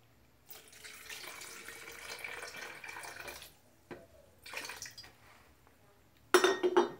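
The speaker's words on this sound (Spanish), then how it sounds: "Vamos a poner un poco de agua." Water is poured for an aloe vera shampoo mixture, a soft splashing stream running for a few seconds, then shorter pours and a louder clatter at the end, all close by.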